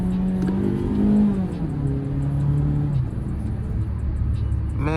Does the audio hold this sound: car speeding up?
yes